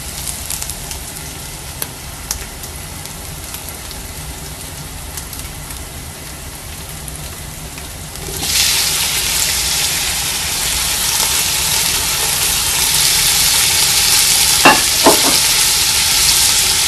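Chopped tomatoes go into a pan for a chicken cheese macaroni dish: a quiet stretch, then a sudden loud, steady hiss of frying that continues with a few stirring clinks near the end, no voices.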